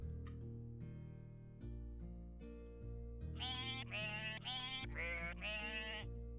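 Sheep in a farming video game bleat several times in quick succession, bright wavering calls over a steady, looping musical backing.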